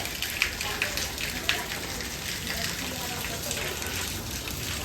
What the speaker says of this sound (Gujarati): જો સવારમાં વરસાદ ચાલુ છે અત્યારે તો જબર